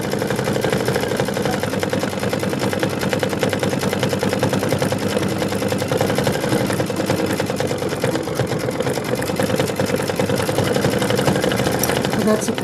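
A domestic sewing machine stitches a decorative satin-style pattern on a quilted wall hanging, a fast, loud, continuous mechanical chatter with a rapid rhythmic needle beat, while someone talks over it.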